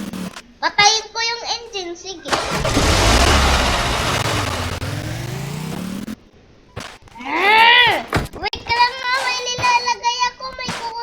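A vehicle engine in the Roblox video game gives a loud, rough, rumbling stretch for a few seconds between bursts of children's excited chatter.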